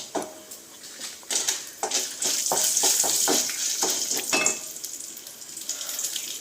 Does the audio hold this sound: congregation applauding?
no